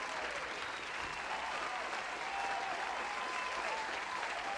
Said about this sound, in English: This is applause for G Shoes.